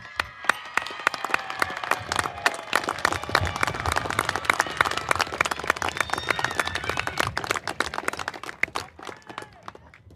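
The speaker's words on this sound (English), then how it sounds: "give them a round of applause with us" A crowd claps steadily in a large space at a university commencement ceremony, dense scattered hand claps sustained throughout and tapering slightly at the end.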